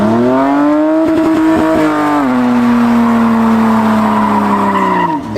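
A BMW E30 revs and accelerates hard, a loud, close engine note holding high with tire squeal, then a pitch shift as it keeps pulling before tailing off.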